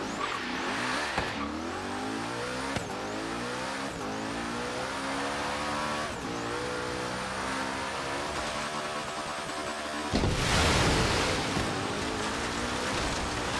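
Hoonicorn car in Forza Horizon 3 revving hard through repeated gear shifts, a loud continuous engine roar with rising and falling pitch sweeps, swelling into a harsher burst near the end.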